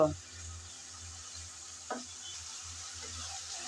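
Potatoes, onion and garlic fry quietly in a pan with a low, even sizzle, broken by a brief scrape of stirring near the middle.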